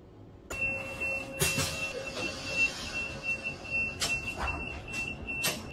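Tram running on rails in the Roblox game Bathwick town, Line 4 to Arnold Interchange, a faint rolling rumble with a steady high electric whine and several sharp clacks at intervals.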